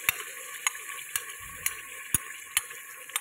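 Spices and yogurt masala frying in a karahi pan for beef Bihari karahi, a steady close sizzle with a few sharp ticks and light clinks at regular intervals, with no speech.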